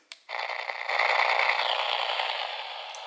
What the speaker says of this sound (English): So we're actually at AM 530 and there's no radio station there, so we're just going to hear static.